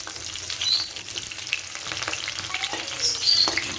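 Cauliflower and potatoes frying in a pan, with a steady crackling sizzle broken by occasional sharper pops and stirring scrapes, close and fairly loud, no voices.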